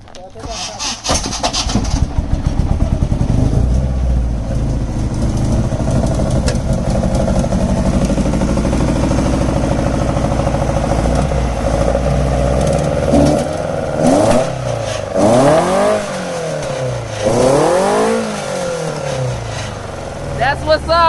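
Ford Escort engine in Mile Gully, Manchester, Jamaica, cranking to life and settling into a rough idle, then revved in several rising and falling swells, loud and close, with people talking over it.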